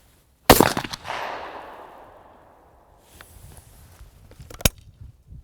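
A single sharp shotgun blast from a smoothbore shotgun at an outdoor shooting range, loud and close, with a long decaying echo, followed by faint handling clicks and a short snap near the end.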